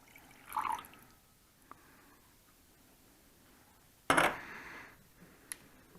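Water, 50 ml, poured into a glass beaker sitting on a magnetic stirrer: two short splashing pours, the second louder, with faint clinks and a drip, mostly quiet between.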